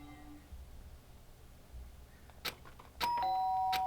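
A doorbell rings in the game Danganronpa Trigger Happy Havoc, a ding-dong chime of two clear tones sounding over quiet background after a couple of soft clicks, with no talk.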